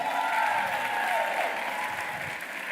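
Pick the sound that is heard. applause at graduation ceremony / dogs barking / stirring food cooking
applause at graduation ceremony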